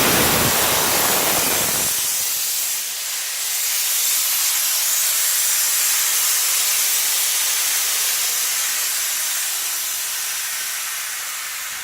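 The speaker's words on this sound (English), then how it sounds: "I've made my final mod to the tire changer, and this is probably going to be loud." A modified Xin Kong SBM960 tire changer blasts a loud, continuous hiss that holds steady without pause, with a brief low rumble at the start.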